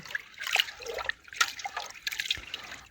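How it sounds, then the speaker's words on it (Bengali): Rice being washed by hand in water for puffed rice, with close, uneven sloshing and dripping bursts. "2 থেকে 3 বার আমি এইভাবে ধুয়ে জলটা পরিষ্কার করে নেব।"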